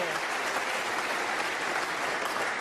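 A snooker audience at the Masters applauds John Higgins' ultra-thin blind-pocket pot with sustained, dense clapping from a large crowd, heard steadily throughout.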